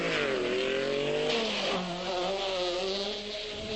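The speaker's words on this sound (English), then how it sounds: "The different cornering techniques are illustrated as Voldegaard flings the Toyota Celica into the bend" A Toyota Celica rally car at the 1984 RAC Rally is thrown hard into a bend, its engine revving loudly with shifting pitch and a hint of tyre scrabble, close and continuous for a few seconds with no talk.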